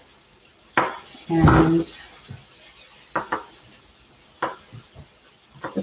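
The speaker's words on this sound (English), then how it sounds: "I'm going to get these pepper seeds off my knife" A kitchen knife is scraped and tapped clean of pepper seeds during meal prep, several short close clattering scrapes and knocks in irregular bursts, with brief speech.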